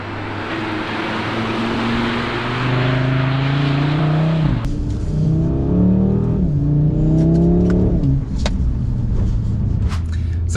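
Audi RS3 in drift mode, engine droning loud and steady, then revving up and down in rising, falling sweeps as the car slides, with tyre and wind noise, close and continuous.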